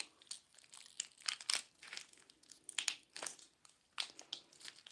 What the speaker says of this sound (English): this gum tape is really fighting me right now